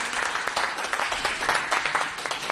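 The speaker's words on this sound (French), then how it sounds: "On applaudit, on applaudit, on applaudit, on applaudit" A small group applauding after a boxing sparring round with a pro boxer: dense, lively clapping from nearby hands runs continuously, bright and steady throughout.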